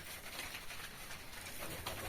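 Pigeons in a home loft holding eggs and young chicks coo faintly and softly within a quiet, airy background hiss.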